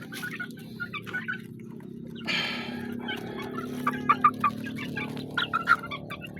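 Pet chickens and turkeys at feeding time cluck and gobble in short bursts over a low background hum, with one louder rustling flurry partway through.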